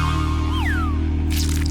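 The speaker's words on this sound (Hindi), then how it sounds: "मीठा गोल्ड सिरप मिलाना होगा।" Golden syrup drips into melted white chocolate as a pair of bright, bending drip tones over a low background hum, followed by a short, soft splatter.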